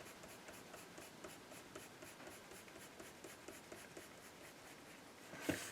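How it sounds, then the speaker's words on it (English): A coloured pencil shades across paper with light pressure, making steady, soft scratchy strokes in a quick even rhythm, close and quiet, ending with a small tap. "I'm going to put it down now with a little bit of pressure, maybe the way I would use a normal pencil"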